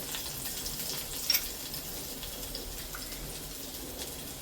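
Ginger and garlic frying in hot oil in a pan, giving a low steady sizzle with one brief louder crackle, close by and without talk.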